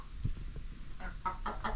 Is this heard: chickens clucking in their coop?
yes